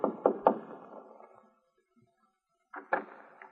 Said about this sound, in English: Northcott rapped on the door of Powell's house.